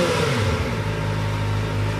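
Kawasaki ZX-4RR motorcycle engine idling warm and then given a first rev, a loud close steady engine hum with rising tones, heard alone.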